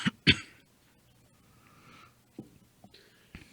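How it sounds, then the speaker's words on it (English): Two quick close coughs open the clip, followed later by softer throat-clearing noises and small scattered sounds against a quiet background. "I see everybody still has a lingering cough"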